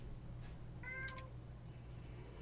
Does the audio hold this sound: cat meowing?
yes